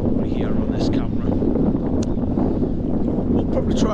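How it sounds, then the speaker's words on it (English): Strong northeasterly wind gusts buffet an outdoor camera microphone with a continuous, loud, low roar that never lets up across the whole stretch, with a few faint higher fragments above it. "Northeasterly winds are up to 16 miles an hour with gusts of up to 30, 32, as you can probably hear on this camera."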